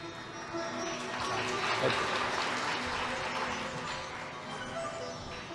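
An audience at a religious gathering in Jammu applauds to welcome a daughter, dense continuous clapping that swells early, peaks near the middle and eases slightly toward the end, with no distinct speech on top.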